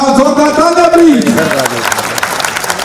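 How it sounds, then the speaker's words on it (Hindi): Applause from guests at Kailash Kher's grand birthday celebration, a crowd clapping that swells in after a voice trails off, mixed with cheering and continuing for several seconds. "जोरदार तालियां प्लीज"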